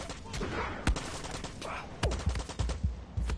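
Guns fire in the Far Cry 6 video game: rapid bursts of loud, sharp shots, with a burst early, a single crack just before one second, then a dense automatic volley to the end.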